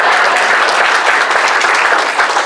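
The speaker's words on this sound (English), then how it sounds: "I'll stand here like this till somebody claps at what I just did." Audience applause for a magician's trick, a dense, steady wash of many hands clapping close and loud throughout, with no voices over it.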